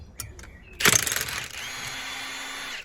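A Milwaukee power gun spins a tie rod nut off the steering of a Vauxhall Astra H. A sharp mechanical burst is followed by a steady whirring rattle for about two seconds, close by, with no talk.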